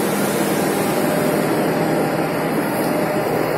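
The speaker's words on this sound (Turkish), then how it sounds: "Bu bir salyangoz şeklinde türbin bunlar." A spiral-case hydroelectric turbine runs in a micro hydropower plant, giving a loud steady rushing hum with a constant mechanical drone and no talk.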